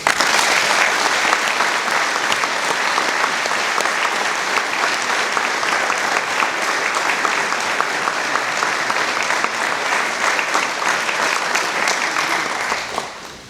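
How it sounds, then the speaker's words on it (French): A large audience at a New Year address claps loudly and steadily for staff for a long stretch, a dense wash of hands that fades slightly at the very end. "Je vous demande de les applaudir."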